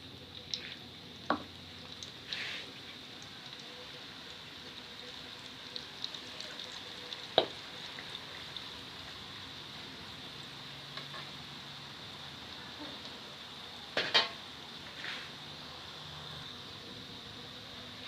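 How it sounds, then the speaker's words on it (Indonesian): Wet noodles fry in hot oil, sizzling softly and steadily in a pan, with occasional sharper crackles and scraping clicks as they are stirred; no one speaks. "Kemudian selanjutnya kita goreng dulu mie basahnya ya teman-teman."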